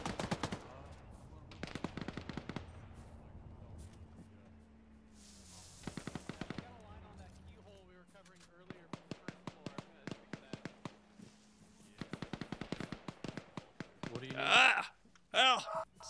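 Gunfire in the video game Arma, rapid bursts of automatic shots in several volleys, sharp and fairly distant-sounding, with stretches of quiet hum between and radio-style talk heard at times.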